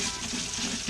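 Cold water runs steadily from a kitchen tap, a continuous close splashing wash with no break over the short moment.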